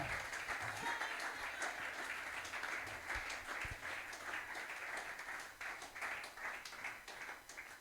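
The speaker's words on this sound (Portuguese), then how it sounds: "Alguém pode aplaudir mais uma vez a ele" Quiet, distant clapping from a church congregation, steady for several seconds with occasional sharper claps and little talk.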